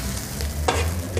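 Egg paratha sizzles loudly in a hot pan as it is flipped, a steady close frying hiss with a brief scraping turn.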